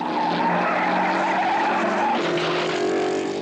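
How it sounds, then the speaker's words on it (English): A 1955 Maserati Formula One racing car spins off the track at the British Grand Prix, a loud sustained tire squeal and skid over roaring engine noise that shifts pitch as the car slides. "Especially from Macklin, who chooses to spin off just at this point."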